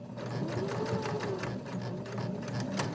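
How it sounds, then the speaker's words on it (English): A sewing machine stitching bulky polar fleece, a close, steady rapid mechanical whir and clatter running continuously for a few seconds. "And I'm going to back stitch at the end."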